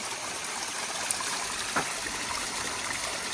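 Mountain spring water streams and trickles steadily close by, a soft continuous babble with a small splash partway through and no voices.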